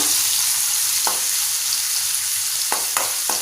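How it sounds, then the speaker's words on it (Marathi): Finely chopped medium onion sautéing in a pan for Malvani-style chicken gravy: a constant bright sizzle with a few sharp spatula scrapes near the end, close and fairly loud. "आपण इथे मीडियम आकाराचा कांदा बारीक चिरून घेतला तो घालूया छान परतवून घेऊया"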